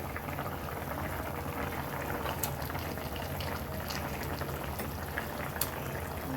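Liquid with added hot water simmers at a steady, close bubbling boil in a covered pan, the base for a fish curry, continuing without pause and with no voices.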